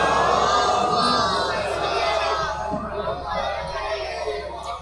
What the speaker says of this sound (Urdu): بارے دیگر صلوات مل کے پڑھیے بابا سے بلند۔